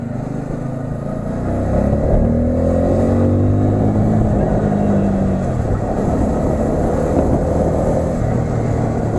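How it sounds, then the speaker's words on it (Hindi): A loud, steady Bajaj Pulsar N250 motorcycle exhaust drone with rising and falling revs as it accelerates while riding, continuous throughout with road and wind noise. "एग्जॉस्ट नोट इसका काफ़ी लाउड है"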